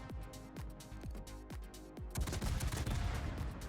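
The cruiser Yorck fires its guns in World of Warships, a run of evenly spaced booming shots followed by a dense rumbling barrage of overlapping blasts.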